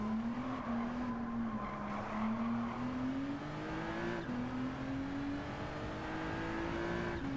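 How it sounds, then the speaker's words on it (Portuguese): A Nissan racing car's naturally aspirated engine in Gran Turismo 7 drones steadily and climbs in pitch as it accelerates, loud and continuous throughout, with no voices. "Ele faz um barulho estranho quando eu acelero esse carro"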